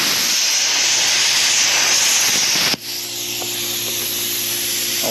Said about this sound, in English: Now I'm going to cut off my welds here on the side.